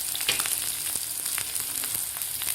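Onion, garlic and ginger fry in hot oil with a steady, close sizzle and crackle, occasionally stirred, with no voices.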